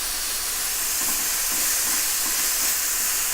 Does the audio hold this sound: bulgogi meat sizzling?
yes